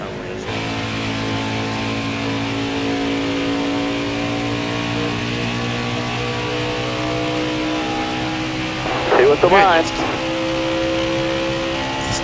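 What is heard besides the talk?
NASCAR race car engine revving in NASCAR Heat 4 video game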